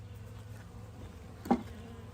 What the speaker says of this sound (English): There's some bees on it.